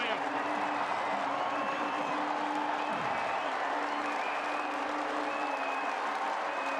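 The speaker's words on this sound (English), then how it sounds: "Kensington Oval stands and applauds." A cricket crowd at Kensington Oval applauds a century, sustained clapping and cheering filling the ground while a commentator talks over it.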